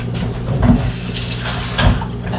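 Bowtie noodles strained in a kitchen sink, water splashing and draining in two louder rushes over a steady running-water hiss, close and without talk.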